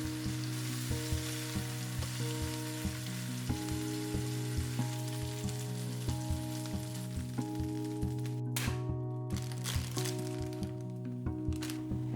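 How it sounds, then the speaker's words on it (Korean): Tteokgalbi patty browning in a frying pan after cooking through, a steady close sizzle with soft crackles running throughout and a couple of brief louder scraping bursts near the end. "속이 다 익었으면 겉에 갈색을 내어서 맛을 내줍니다."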